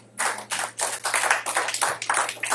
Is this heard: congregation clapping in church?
yes